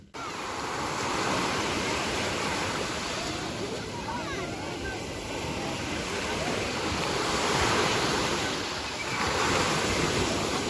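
Sea waves surging steadily onto a beach, a broad continuous wash of surf with some wind across the microphone, fairly loud and unbroken throughout.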